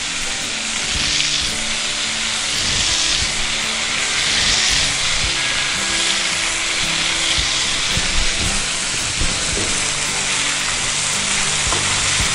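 Stuffed brinjal (eggplant) frying in hot oil with mustard seeds gives a loud, steady, close sizzle that crackles continuously without a break, with no talking.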